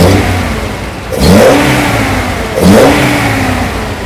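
A Datsun 240Z engine idles with a rough low burble, then is blipped twice in sharp, close revs that rise and fall about a second apart.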